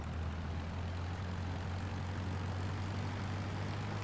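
Scottish Aviation Bulldog propeller engine in Microsoft Flight Simulator 2020, a steady, deep droning hum that holds constant throughout, moderately loud with no voices over it.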